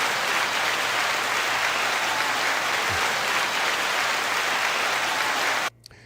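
Dense, loud applause played as a sound effect on a hip hop podcast, a steady wash of many hands clapping that cuts off abruptly near the end, leaving a brief quiet tail.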